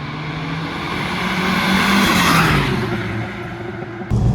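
Car engine under way while driving, a loud, near drone that climbs in pitch under acceleration and then drops off, with a sudden thump near the end at the gear change.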